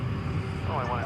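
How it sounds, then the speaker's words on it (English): A Delta Airbus A319 landing at DFW after a flight from Salt Lake City gives a steady, loud jet engine roar with a whining tone, heard under a voice. "Let's tune into a Delta flight coming in from Salt Lake City. It'll be an Airbus A319."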